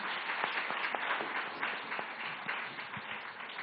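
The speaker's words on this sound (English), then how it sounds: "On stage, Dilshad Master. A big round of applause for her." An audience claps for a guest called on stage at a televised talk event, a steady band-limited patter of many hands at moderate level with no voices over it.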